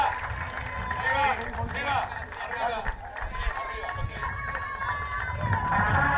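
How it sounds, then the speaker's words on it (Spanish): Crowd applause for the winners at a national trotting Grand Prize ceremony, dense continuous clapping mixed with voices and crowd noise, heard over a loudspeaker announcer's talk. "Un aplauso para los Scorzo, ganadores del Gran Premio Nacional"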